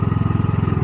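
A Scheppach EXC815 mini excavator's small engine runs under throttle with a rapid, even low pulsing putter, close and steady for under a second.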